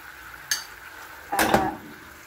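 Large-cut white onions dropped into a pan of frying pork chops, heard as two short bursts: a brief clatter and then a louder, denser sizzle-crackle about a second later. No one talks.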